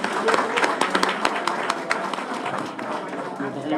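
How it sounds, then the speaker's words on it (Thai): A crowd at a party campaign event applauds to welcome the prime minister and party leader, dense steady clapping with sharp individual claps throughout, mixed with crowd voices and talk. "ขอเสียงปรบมือต้อนรับท่านด้วยครับ"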